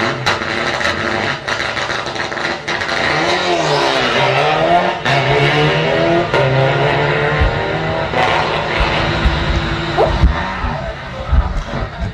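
Rally cars leaving the start line of a stage at the 40th Rallye des Grands Fonds, with loud engines revving and accelerating away one after another over a continuous crowd murmur and background talk.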